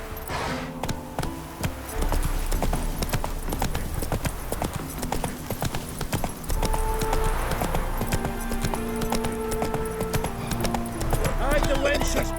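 Roach, Geralt's horse in The Witcher 3 on Xbox, gallops with a steady, loud clip-clop of hooves throughout, over layered game music and ambience, with a voice talking across part of it.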